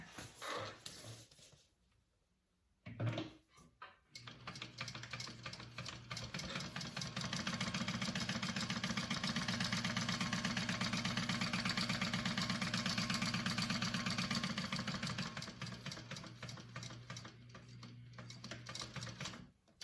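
A sewing machine runs steadily for several seconds while stitching along a zipper facing for a bag pattern, its motor hum and rapid needle rhythm loud and close, with a brief pause near the start and no talking.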